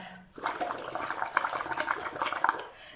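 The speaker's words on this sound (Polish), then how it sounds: "możemy zamoczyć rurkę i starać się zrobić jeszcze mocniejsze fale" Bubbling, gurgling water as someone blows through a straw dipped into a container of water, a steady watery burble lasting most of the clip after a short quiet start.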